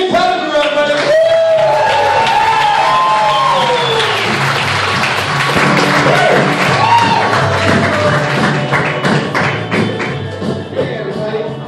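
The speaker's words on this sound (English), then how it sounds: "Let's give a big round of applause to my friend, Nick Pettigrew, everybody." Loud crowd applause and cheering for a stand-up comedian at a comedy show, dense clapping with whoops and shouts throughout, voices mixed in over the noise.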